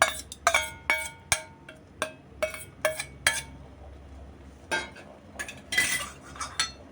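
A spoon clinks and scrapes against a metal pot while drumstick rasam with cooked dal and tomato is mixed, a series of sharp, irregular close knocks and clinks with quiet gaps between them, no voices.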